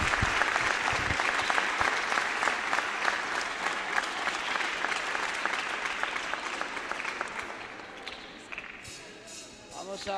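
Sustained audience applause fills a children's festival hall in Argentina, a dense, steady wash of many hands that slowly thins toward the end, with a voice faintly underneath.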